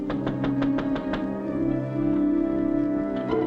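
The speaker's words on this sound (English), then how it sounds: "It was somebody knocking on the door." A door in a radio drama is knocked on: a quick series of about six sharp raps in the first second and a half, loud and close, over a steady background hum of music or room tone.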